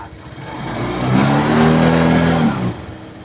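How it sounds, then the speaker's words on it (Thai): A Suzuki Jelato scooter with an overcharging charging system revs up close, its engine note climbing to a steady, loud whine for about a second before dropping back toward idle. "ลองเร่งใหม่"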